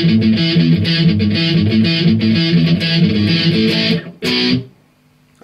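Electric guitar fill from a song, quick and heavily palm-muted with a distorted chugging rhythm, loud and alone, cutting off near the end.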